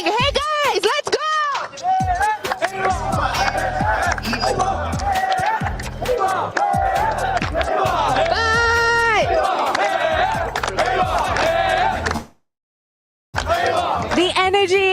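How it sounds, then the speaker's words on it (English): A crowd at the Free Fire esports grand final at EWC 25 cheers and shouts loudly and continuously, with voices rising and falling, before a brief silent cut near the end. "The energy in the crowd is explosive, it is spicy"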